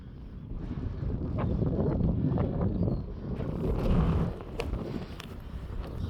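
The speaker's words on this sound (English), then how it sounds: "Go down out the wind a bit, see if I can get down here a minute." Strong wind gusts buffet the microphone on an open, exposed hillside at Arbor Low, a steady roaring rush that swells and eases, loud and close, with no voices.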